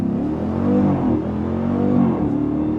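A 2025 Dodge Durango Hellcat engine held at steady high revs, a loud droning roar that swells slightly as the SUV launches and pulls away.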